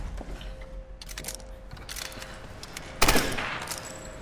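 Rapid gunfire in the Tomb Raider video game: a dense volley of loud shots that ends in a heavier burst of fire near the end.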